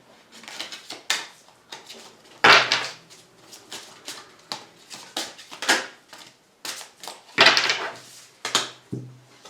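Tarot cards being shuffled by hand in a quiet room, a run of quick riffling and slapping bursts with short pauses between them, close and fairly loud with no talking.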